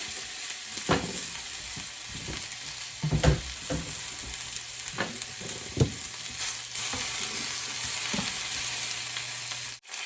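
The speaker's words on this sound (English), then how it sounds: "Now the spinach, I'm going to cook it for about a minute. Yeah. Just wilt it." Spinach wilts in a hot pan with a loud, continuous sizzle broken by stirring clacks and scrapes, close and with no voices.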